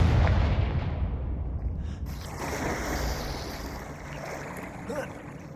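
Confringo fire spell explosion in Hogwarts Legacy: a deep, rumbling blast that rolls on as a broad roar and slowly fades over several seconds, with no talking.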